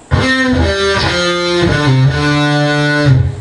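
A short, loud distorted electric guitar riff, a few sustained notes shifting in pitch, played alone and up close.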